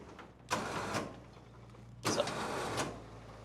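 Car hauler winch with a broken, damaged spool paying out cable, two bursts of whirring motor and rattling drum separated by a pause, close and fairly loud with a low hum underneath.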